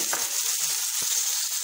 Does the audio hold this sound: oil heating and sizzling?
yes